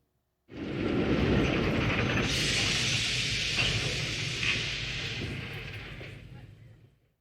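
A train rolls along the rails with a steady rumbling roar and hiss that swells in quickly, holds for several seconds, then fades away.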